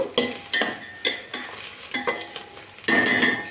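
Spoon stirring a tablespoon of sugar into prawn pulao in a pan, a rhythmic series of close scrapes and clinks over a low sizzle, about seven strokes in quick succession.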